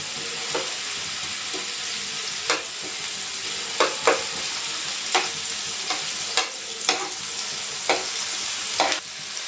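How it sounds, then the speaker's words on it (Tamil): Ginger, garlic and green chilies sautéing in a pan for a vegetable spring roll filling: a constant close sizzle broken by regular scraping strokes of a spatula stirring every second or so. "இந்த இஞ்சி பூண்டு போடணும் பச்சை மிளகா இது நல்லா வதங்கணும்"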